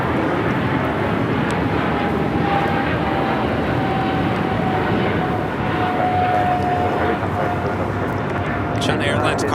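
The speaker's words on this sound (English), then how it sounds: "China Airlines cargo, flight 5137, heading to Taipei in a 777 freighter." A China Airlines Boeing 777 freighter at Los Angeles airport gives a steady, loud jet roar with a faint whining tone, continuous throughout under light talk.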